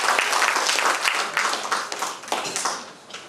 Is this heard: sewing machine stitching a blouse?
no